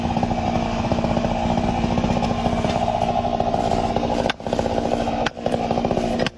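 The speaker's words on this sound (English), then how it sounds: "The chainsaw roars, its sharp blade slicing through the timber with the ease of a hot knife through butter." A chainsaw cuts through a tree trunk during felling, its engine roaring loud and steady close by, with two brief dips where the blade eases off before biting back in.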